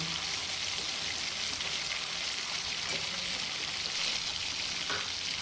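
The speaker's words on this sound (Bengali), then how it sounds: "আলুটা ভেজে নিই" Potatoes fry in oil in a pan with a steady, dense sizzle that stays close and even, with faint stirring clinks now and then and no voices.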